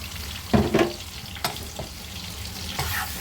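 Spice masala frying for a Bihari-style chicken curry after a splash of water, a low simmering sizzle punctuated by a few sharp scraping stirs, with no talk.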